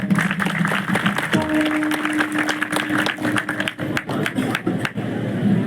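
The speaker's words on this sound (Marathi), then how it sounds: "वाजवा त्याच्या टाळ्या." An audience at a kirtan claps for a boy who has come up to dance before the band, dense steady applause under music and some background voices.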